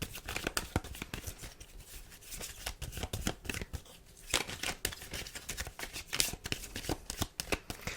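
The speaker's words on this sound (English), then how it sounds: "I'm going to pull 3 more tarot cards" Tarot cards are shuffled and handled close by, giving a dense run of quick papery riffles and slaps that continues without a break, with no talking.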